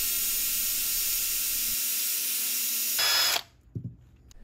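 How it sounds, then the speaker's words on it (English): A steady high-pitched whirring hiss of a drill spinning rusty motorcycle screws against a wire brush, continuous for about three seconds before cutting off abruptly, followed by a faint clunk. "the screws were chucked into a drill so they could spin fast"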